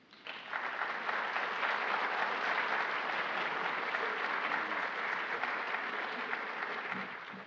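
An audience bursts into steady, full applause welcoming a speaker at a symposium, a dense wash of clapping that holds evenly for several seconds before easing slightly at the end, with no talking over it.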